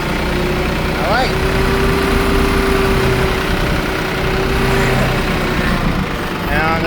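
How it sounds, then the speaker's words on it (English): A loud, steady tractor engine drones throughout, with a low mechanical rumble and a brief tonal whine in the middle. "Hopefully you can hear me over this tractor."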